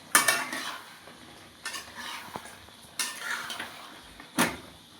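A fish curry with potato and tomato is stirred and fried in a pan on a home stove. A utensil scrapes and clanks against the pan in a few distinct strokes, and a soft sizzle carries on between them.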